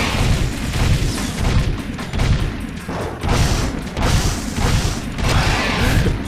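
Rapid laser gunfire and booming blasts in the Jak 2 video game, a dense run of loud, repeated shots and thuds that keeps going without a break.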